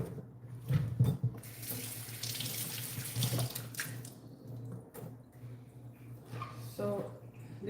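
A kitchen tap runs water into a pot of raw green plantains, a close, steady splashing stream that goes on throughout, with speech heard faintly at times.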